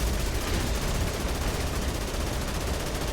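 Rapid, sustained automatic gunfire in Dead Rising Remastered during a boss fight, a dense, loud, unbroken rattle of shots filling the whole stretch.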